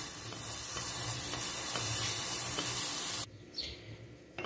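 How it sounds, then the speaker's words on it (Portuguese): Crushed garlic with salt fries in coconut oil, a loud hissing sizzle with faint stirring ticks that cuts off abruptly, leaving quieter room sound and a few soft knocks. "eu coloquei 2 colheres de óleo de coco e vou fritar o meu alho aqui"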